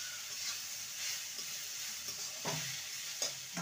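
Grated potato and pointed gourd fry in a pan with a soft, steady sizzle, while a spoon scrapes and stirs in short bursts near the end.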